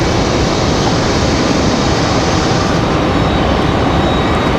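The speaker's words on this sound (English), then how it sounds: "Southwest touching down just behind us." Southwest Airlines jet touching down at Raleigh-Durham airport, a loud continuous broadband roar of engines and rushing air holding steady throughout, with no voices.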